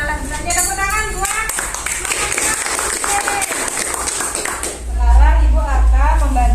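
Schoolchildren in a classroom clap together in a lively burst, with young voices calling and chanting over and between the claps.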